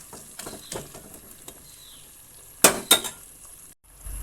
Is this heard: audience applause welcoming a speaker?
no